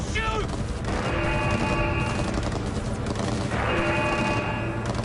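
Gunfire in a video game shootout roars in a dense, loud barrage that never lets up, with heavy impacts and bursts layered over one another and voices shouting through the chaos.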